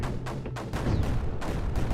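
Repeated mortar shots from the strategy game Creeper World 4, several quick booming pops in an irregular rhythm over a steady low background din.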